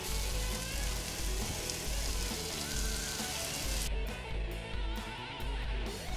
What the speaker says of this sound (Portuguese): com a frigideira quente, a gente vai trabalhar esse bacon